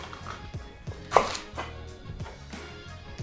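A knife cuts through a leek on a cutting board in several crisp chops at an uneven rhythm, close and fairly quiet.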